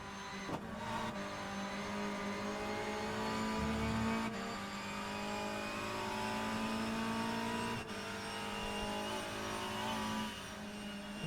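BTCC touring cars race around Oulton Park in a sim racing game, engines droning at high revs in a steady, sustained note with gear shifts and brief tire noise.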